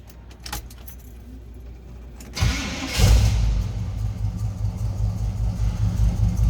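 Keys jangle faintly before a 1980 Chevrolet K10 4x4 pickup cranks and catches, its engine settling into a steady, loud rumbling idle close by.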